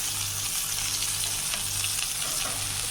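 Fish frying in a pan in a home kitchen, a loud, dense, continuous sizzle with a low steady hum underneath and no talking.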